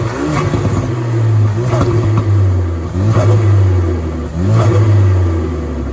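A Ford Focus RS fitted with a GFB DV+ valve revs repeatedly, loud and close. Each of about four throttle blips rises and drops with a fluttering chatter as the revs fall, over a steady idle.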